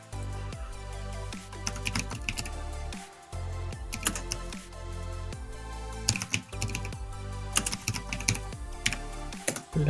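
Rapid typing on a computer keyboard, dense bursts of close clicking keystrokes with brief pauses between runs, loud and alone without talk.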